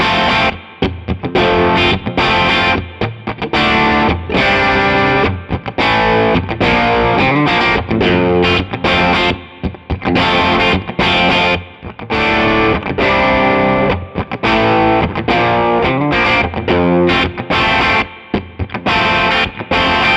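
Schecter Nick Johnston PT electric guitar playing a hard rock riff through heavy distortion, loud and close with chopped chords and short gaps between phrases, with no voices.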